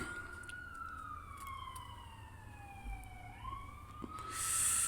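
A siren wails past in a long descending sweep, then rises again as another vehicle approaches, with steady traffic rumble underneath.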